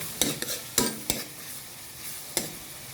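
Ampalaya (bitter gourd) being stirred and sautéed in a hot pan after salt goes in, with a few sharp scraping strokes of the spatula over a steady close sizzle.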